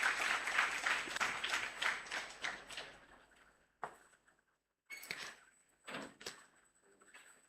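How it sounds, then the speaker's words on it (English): Applause from an audience at an MSME leadership summit on a college campus, a few seconds of scattered clapping that fades out, followed by isolated knocks and thuds in a quiet room. "Can we have a huge round of applause again?"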